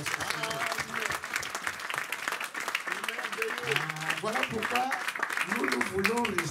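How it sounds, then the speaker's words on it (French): Dense, sustained applause from a congregation at a French-speaking Christian conference gathering, with loud clapping filling the whole stretch while voices call out and talk over it. "Donnez encore une acclamation."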